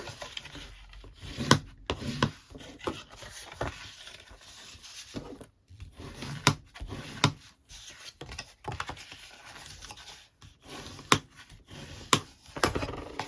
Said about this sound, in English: So let's just burnish those lines.